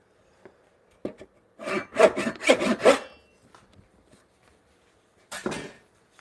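A handsaw cuts through wood during a mallet repair, with a quick run of four or five close, rasping strokes, a couple of faint taps before, and one more stroke after a pause.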